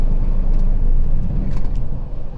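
In Euro Truck Simulator 2, a heavy truck's engine rumbles low and steady, then gradually fades as it shuts down, with a deep, continuous drone and no talk over it.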